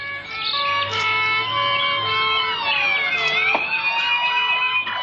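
Several emergency vehicle sirens wail together in the distance near a large fire, their overlapping tones rising and falling steadily for the whole stretch with no talk.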